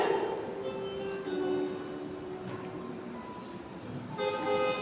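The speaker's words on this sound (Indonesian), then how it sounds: "tiba-tiba bunyi klakson mobil ayah terdengar dari luar rumah" A car horn sounds in sustained tones, faint and somewhat distant, with a brief second honk near the end.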